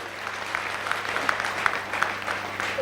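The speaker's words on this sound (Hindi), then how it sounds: "तालियां हो जाए" An audience at a Safe Shop diamond recognition event gives a round of applause during a speech. The clapping is dense and sustained in a large hall, with a few louder claps near the microphone.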